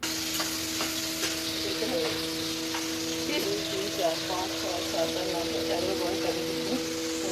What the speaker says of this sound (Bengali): প্রত্যেকটা চিংড়ি মাছ ভালো করে ভেজে নিতে হবে